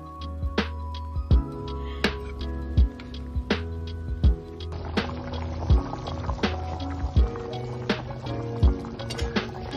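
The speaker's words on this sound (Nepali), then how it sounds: "अब सुपको लागि पानी हाल्ने र मजाले पकाउने" Water is poured into a pot of local chicken curry to make soup: a steady liquid pour and fill with regular soft knocks and clinks, heard up close with no talking.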